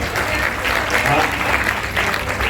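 Audience at a Hindi poetry gathering at an Ayurvedic college claps steadily and densely for a short burst, close and fairly loud.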